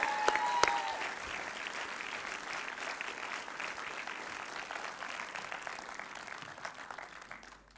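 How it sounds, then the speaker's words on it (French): An audience at a ceremony for a digital arts school applauds, steady dense clapping from many hands that holds at even strength and tapers slightly at the end, after a couple of sharp clicks at the start. "Allez, applaudissez-les encore."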